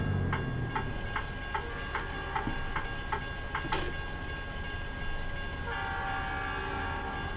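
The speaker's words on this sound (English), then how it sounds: "Oh, train." A train passes in American Truck Simulator with steady rhythmic clicking of wheels over the rails, then a loud locomotive horn blast near the middle, followed by further horn tones at the end, all under a constant engine rumble.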